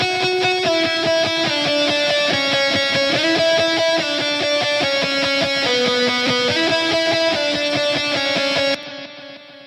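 Bright, busy synth melody with a delay tail and auto-pan sweeping between speakers, playing a continuous stepping line over dense, rhythmic layers, loud and steady before thinning out briefly near the end.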